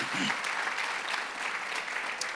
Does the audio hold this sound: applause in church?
yes